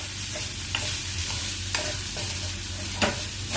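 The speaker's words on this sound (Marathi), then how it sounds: "कांदा आपण थोडासा याच्यामध्ये फ्राय करून घ्यायचा" Chopped onion frying for chicken liver masala, a steady bright sizzle with a few sharp spatula scrapes against the pan, close and continuous.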